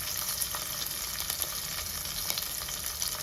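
Grated ginger and green chilies fry in a pan for an ivy gourd palya, giving a steady, dense sizzle with fine crackling pops throughout, close and even in loudness.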